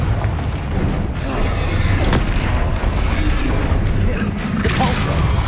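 The Confringo fire spell from Hogwarts Legacy explodes in a heavy booming blast with low rumbling impacts and crackling debris, dense and loud throughout, with a voice shouting over the combat.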